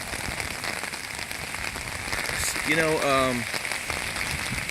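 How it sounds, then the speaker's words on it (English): Dense, steady patter of heavy rain falling close by on an umbrella, with a short spoken phrase rising over it midway. "But you can hear the rain now. Yeah, now we're getting some good rain."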